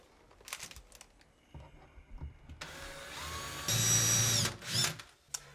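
A power drill whirs in bursts, with a long high-pitched spin near the end, close by among some handling clatter.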